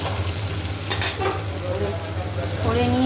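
Hilsa fish fries in a pan, a steady bright sizzle close by with a sharp spatter burst near the middle, while someone talks briefly over it.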